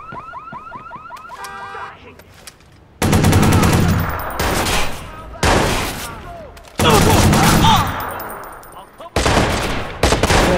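A light machine gun fires in the video game Watch Dogs in loud bursts with gaps between them, after a pulsing car alarm at the start.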